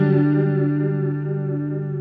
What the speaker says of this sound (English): you can get chorus sounds out of it, and this is out of phase.